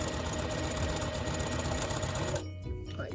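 A sewing machine stitches down a daisy quilt petal, its steady rapid whir running close and continuous before cutting off abruptly, leaving a low hum.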